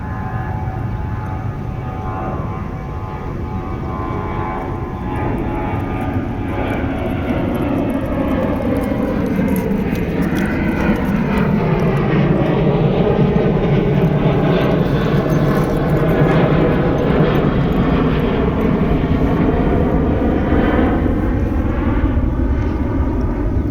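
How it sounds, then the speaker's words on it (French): A loud airplane roars steadily overhead for the whole stretch, its engine drone swelling and shifting slowly with no talking. "Attends, je laisse passer l'avion."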